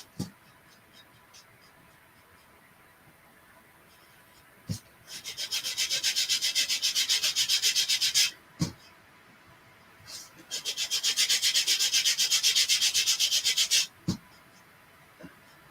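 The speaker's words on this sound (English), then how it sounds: "I want to do some sanding" Two long bursts of steady scratchy rubbing, like sandpaper worked back and forth by hand during a chalk craft project, separated by pauses and a few sharp taps.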